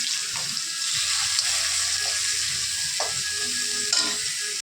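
Tomatoes roasting in a pan for a homemade paneer pizza give a steady, close sizzle with faint stirring scrapes, continuous and fairly loud throughout and ending abruptly.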